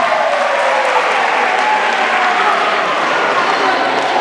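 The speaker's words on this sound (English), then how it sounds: "Let's give him a round of applause." A school assembly crowd claps together in a steady, dense wash of applause at close range, sustained evenly from start to finish.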